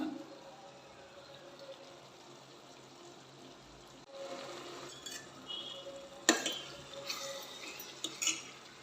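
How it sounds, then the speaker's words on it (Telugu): Water goes into a pan of brinjal curry, with soft clinks and scrapes of a spoon against the pot, faint at first and then louder with sharper knocks toward the end. No one speaks. "నేను కొంచెం వాటర్ వేస్తాను ఇదిగో కొన్ని వాటర్ అయితే వేస్తున్నాను"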